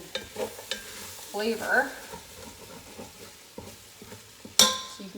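Vegan sausage browning in a soup pot is stirred with a utensil, giving scraping stirs and a soft sizzle under a person talking, with a sharp clink near the end.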